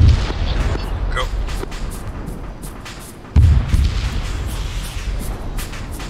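An enemy Scud missile launch in Arma 3 lands as a deep distant boom that erupts midway, followed by a rumbling roar, set against wind and battlefield ambience with faint distant gunfire.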